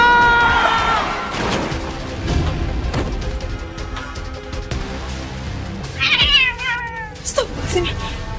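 A cat meows several times, with louder, longer harmonic cries near the start and again toward the end, mixed with background sounds and a voice in a tense indoor drama scene.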